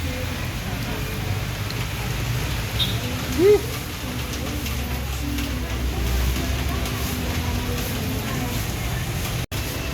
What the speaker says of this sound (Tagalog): nasasabak tayo sa lakas ng ulan